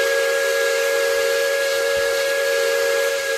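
American steam whistle in the RO-Scale Sandbox game, one loud, steady, continuous tone with a hissing edge, held unbroken without any voices.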